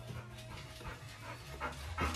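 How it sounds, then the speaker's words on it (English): A dog pants and whimpers excitedly in quick, uneven bursts, fairly close, with a few louder yelps near the end and no talk over it. "Dog is going crazy."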